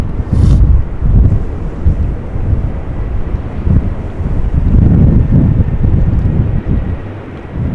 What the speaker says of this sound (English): EasyJet. Arriving from London Luton, flight 22517, Airbus A319.